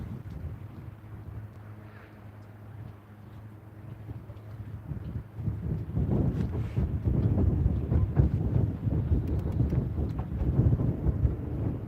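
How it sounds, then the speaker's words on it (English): Wind gusting over a lake during a catfishing outing, a steady low rumble of buffeting against the microphone that grows stronger and rougher in the second half, with faint boat-like knocks and no talking. "Yeah, it's the wind."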